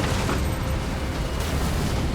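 Continuous loud rumbling explosions as mines are cleared in the Halo Wars 2 real-time strategy game, a dense unbroken roar of blasts filling the whole stretch with no talk.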